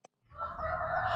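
A rooster crows in a chicken coop, one loud sustained cock-a-doodle-doo that swells after a brief click and holds strongly to the end, close to the listener.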